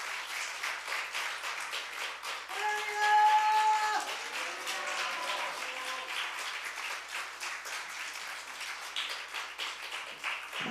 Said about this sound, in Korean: 우리 나오실 때 박수로 환영해 주시면 감사하겠습니다.